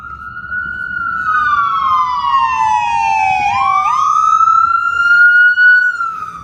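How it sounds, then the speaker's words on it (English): A loud wailing ambulance siren sweeps down and back up in pitch, close by, over a low rumble of traffic in Kensington. "Here's another ambulance."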